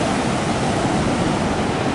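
Beach waves in Bali wash along the shore in a steady, loud rushing roar with no distinct breaks, close and continuous throughout.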